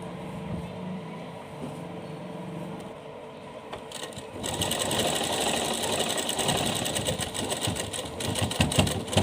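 A sewing machine stitches lace onto a small doll outfit. The motor hums quietly at first, then from about four seconds on a louder, rapid, steady needle clatter runs close up until the end.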